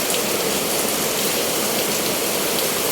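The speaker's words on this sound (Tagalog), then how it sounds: "Sobrang kusog sa uwan." Heavy rain pours down in a sudden downpour, a dense, loud, unbroken hiss of drops hammering surfaces close by, with no other sound standing out.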